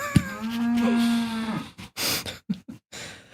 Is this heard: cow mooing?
yes